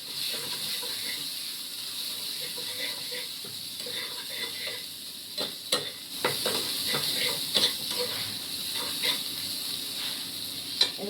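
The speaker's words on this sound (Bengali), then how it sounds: "মশলাটা ভালো করে কষাবো" Spice paste for a fish curry is stir-fried in a pan: a steady close sizzle with repeated scraping and clicking strokes of the spoon, which grow busier and louder in the second half.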